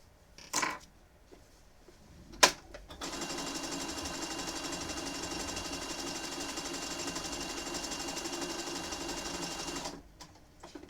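A sewing machine stitches appliqué letters onto a Pokémon quilt, running close and steady for about seven seconds after a couple of brief knocks, with no talking.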